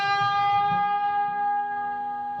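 Electric guitar string bend sustaining with several stray notes from unmuted strings ringing together, a steady chord-like wash that slowly fades over a couple of seconds, played alone without talk.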